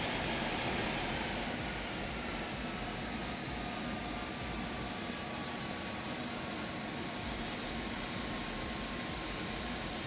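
Phenom 300 business jet in the X-Plane 11 flight simulator taxiing with engines at idle: a steady, even turbine whine and broadband roar, continuous and moderately quiet throughout.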